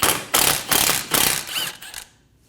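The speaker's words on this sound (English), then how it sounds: "Using a 10mm socket, we're going to remove the bolt for the e-brake cable bracket." A 10mm socket on a ratchet loosening the e-brake cable bracket bolt on a Scion xB rear hub, five or six quick bursts of clicking in a row, close and crisp, then stopping.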